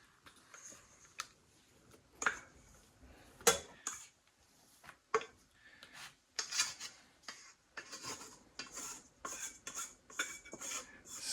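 Sourdough dough being scraped out of a proofing pan, close up, heard as a string of short rubbing, rasping scrapes with soft clinks of the pan, coming in irregular bursts with quiet gaps, no voices.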